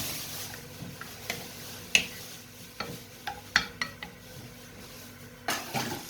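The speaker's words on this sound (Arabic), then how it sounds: "هنا بقلب البصله اهي يا بنات، البصله والثوم والفلفل في الطاسه" Onion, garlic and pepper sizzle in oil in a pan under a steady low fry, with sharp spoon clicks and scrapes against the pan at irregular intervals as the mixture is stirred, close and with no talking.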